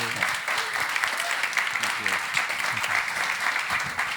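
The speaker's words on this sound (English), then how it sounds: "So can we give a round of applause to Ciro and Kimberly, please?" Steady applause from the audience after a fireside chat on misuse of large language models, a continuous bed of clapping with a voice speaking faintly underneath.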